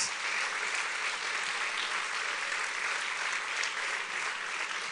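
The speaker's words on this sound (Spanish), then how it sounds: "Dale un aplauso fuerte a Jesús entonces." Loud, sustained applause from a congregation at a Spanish-language church service, dense clapping that holds evenly throughout with no speech over it.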